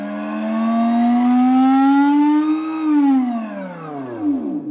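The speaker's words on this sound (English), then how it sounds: "That is the sound of an electric motorcycle made by Tarform." Matte black Tarform electric motorcycle accelerating, a smooth rising electric-motor whine with layered harmonics that climbs in pitch, then falls away as it slows, loud and close with no engine rumble or talk.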